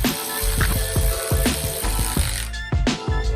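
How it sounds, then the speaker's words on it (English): Ratchet clicking in quick uneven bursts during carburetor reassembly, close and fairly loud, with metallic taps and rattles from the tool and parts. "Just putting the carburetor back together."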